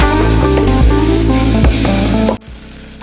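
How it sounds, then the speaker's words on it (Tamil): Ginger garlic paste sizzling loudly in a hot pan for a biryani, a dense close frying hiss with stirring scrapes that cuts off abruptly near the end. "இப்போ நம்ம 2 டீஸ்பூன் அளவுக்கு இஞ்சி பூண்டு பேஸ்ட் பண்ணி வச்சுருக்கேன், அதை ஆட் பண்ணிக்கலாம்"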